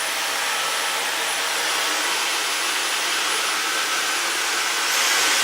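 Dyson Supersonic hair dryer blows close by with a continuous high, hissing rush of air that stays steady and rises slightly at the end, with no voices.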